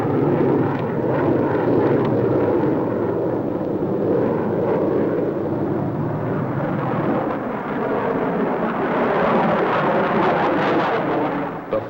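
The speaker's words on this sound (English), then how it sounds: "turbojet engines used in assisting takeoffs of our giant bombers are studied" A sustained, loud roar of turbojet engines blasting a rocket ship off the ground in a 1955 science-fiction film, a steady broadband rumble that swells slightly toward the end, with no voices.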